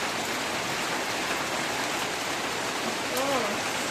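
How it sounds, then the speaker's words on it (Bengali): Morning rain falls steadily in a village, a dense continuous hiss close by with no breaks and no talk. "আর এদিক দিয়ে বৃষ্টিও শুরু হয়ে গেল, সকাল সকাল বৃষ্টি শুরু।"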